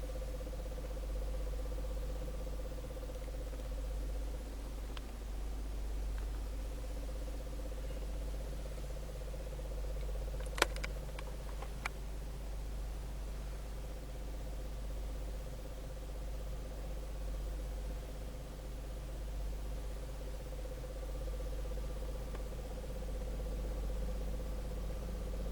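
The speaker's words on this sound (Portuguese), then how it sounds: "Olha a batidinha que está dando." A Chevrolet Spin engine idles inside a shop with a faint, steady knocking tick under a constant low rumble, broken by a brief sharp clatter midway.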